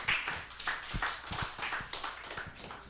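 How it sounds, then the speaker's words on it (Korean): Applause from a church congregation, a dense patter of clapping hands with a few sharper, louder claps standing out, steady for a few seconds. "우리 박수로 환영해 주시기 바랍니다"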